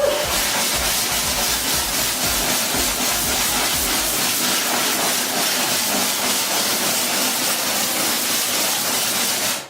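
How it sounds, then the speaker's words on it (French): A can of compressed air duster sprays inside a PC case, blowing over the fan and connectors: a loud, steady hiss that runs without a break, close to the microphone, with no talking. "on va commencer par souffler tranquillement les parties donc ventilo et connectique"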